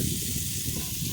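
Boiled potatoes hit hot oil in a pan and set up a continuous, close, fairly loud sizzle that holds without a break.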